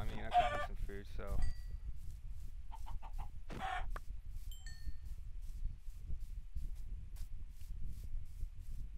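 Chickens cluck in the Minecraft video game, a few short bursts near the start and again around the middle over a steady low background hum, fairly close and moderately loud.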